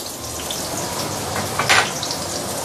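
Garlic, shallot and French beans sauté in hot oil for pork fried rice, giving a steady close hiss with a brief louder splash of sizzle partway through.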